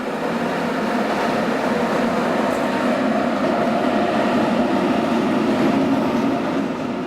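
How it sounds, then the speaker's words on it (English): Passenger train entering the Arlberg tunnel in Austria, a loud, steady rumbling roar of rolling wagons, close and continuous throughout with no talk. "our train enters the Arlberg tunnel"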